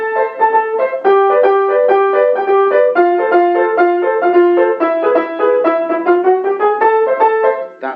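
Flamenco/Latin riff on guitar: a repeating plucked chordal pattern with a steady rhythmic drive and bright ringing notes, played close and continuous with no voice over it.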